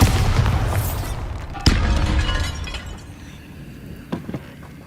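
Bombarda blasting spell explosions in the Hogwarts Legacy video game: a loud booming blast with a shattering, crumbling tail, a sharp second impact shortly after, then debris settling and a few faint knocks near the end. No voices.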